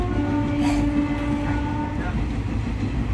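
A train rolls along steadily with a loud, continuous rumble and rattle of wagons, a constant mechanical drone filling the whole stretch.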